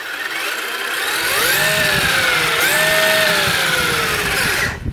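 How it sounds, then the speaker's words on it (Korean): A radio-controlled car's motor is throttled up at idle, a whining tone that climbs, dips and swells again for several seconds before cutting off abruptly, loud and close with no talking. "자 공회전 해볼게요."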